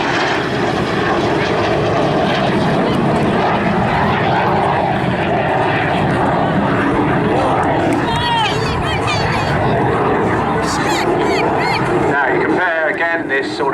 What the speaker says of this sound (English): Coming in from the right now, here's Bertie, as he's known, Ian Brett, flying the Strikemaster.